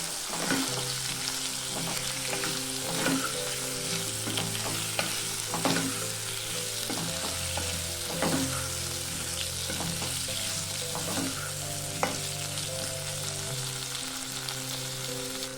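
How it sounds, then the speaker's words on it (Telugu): Jeera aloo cooking: diced potatoes with turmeric, asafoetida and salt are stirred in a frying pan, a soft continuous sizzle broken by regular scraping strokes of the spoon, close and quiet, without speech. "ఇప్పుడు అన్నీ బాగా కలుపుకోవాలి"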